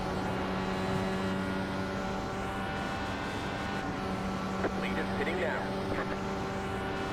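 IndyCar engines racing at Indianapolis in the iRacing video game, a steady sustained engine whine with constant harmonic tones, a car held partly on throttle in a pack, continuous and fairly even throughout.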